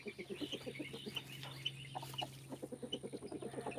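Backyard chickens cluck in a steady, rapid series of short calls, fairly close, with a constant low hum underneath and no talking.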